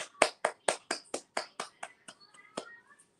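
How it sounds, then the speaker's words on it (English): A small child clapping hands, about a dozen sharp close claps in a fairly steady rhythm that slow and soften toward the end, with faint tones in the background. "my little guy was clapping"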